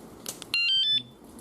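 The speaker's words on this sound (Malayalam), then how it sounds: "ജസ്റ്റ് വൺസ് പ്രസ് ചെയ്ത് കഴിയുമ്പം ഇതുപോലെ നോട്ടിഫിക്കേഷൻ അലാം കേൾക്കാം." Hercules Topgear S29 R1 cycle anti-theft alarm sounding its lock notification after a remote button press, a short electronic chirp-beep sequence lasting about half a second, close and clear over quiet room tone.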